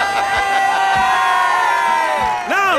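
An audience cheers and whoops loudly and close by, a dense crowd roar with overlapping shouting voices that rise and fall and surge again near the end.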